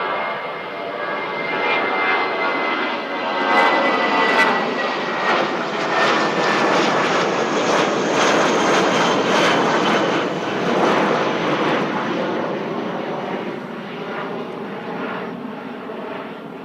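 A Jetstar jet airliner flies over Christchurch Airport in windy weather, its engine roar steady and fairly loud as it swells and slowly fades over many seconds, with no talk.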